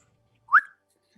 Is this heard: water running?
no